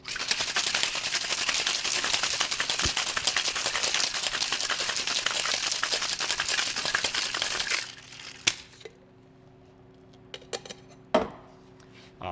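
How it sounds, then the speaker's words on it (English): Ice rattles hard inside a cocktail shaker in a dive bar for about eight seconds, a loud, fast, continuous shake that stops abruptly, followed by a few scattered clinks in near quiet. "give it a nice shake for about 8 to 12 seconds"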